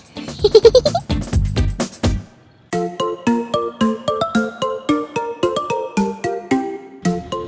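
A pet goat bleats several times in quick, wavering cries, followed by a rapid run of sharp, evenly spaced tonal calls after a brief pause, close and clear.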